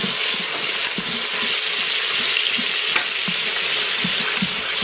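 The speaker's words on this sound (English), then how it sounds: "we're going to start cooking that meat up" Ground turkey browning in an Instant Pot gives a loud, continuous close sizzle with soft intermittent scrapes and stirring knocks underneath.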